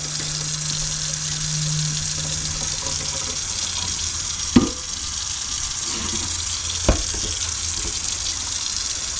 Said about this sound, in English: what it says to do is to run your cold water